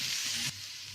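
Onions frying in a pan for egg masala, a steady bright sizzle that runs loud for half a second, then drops to a softer, quieter hiss.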